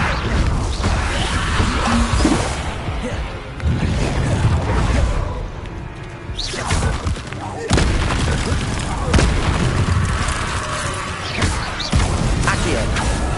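Repeated Confringo blasting-spell explosions from the Hogwarts Legacy video game, loud booming and crashing blasts landing every second or two in dense, chaotic combat, with battle noise and shouted voices between them.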